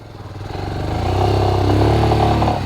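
A motorcycle pulling away for a ride along a road, its engine note rising steadily as it accelerates, loud and close with wind rumble underneath.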